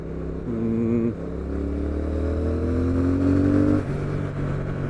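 Triumph Thruxton R motorcycle engine while riding, a loud, steady drone with a rising pitch through the gears and a brief dip and shift midway.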